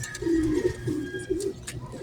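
A racing pigeon coos close by, a series of low, rolling throaty coos repeated several times in a steady rhythm, with no talking.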